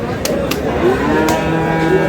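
A bull moos loudly and close by at a busy cattle market, one sustained low call over steady crowd noise and background chatter.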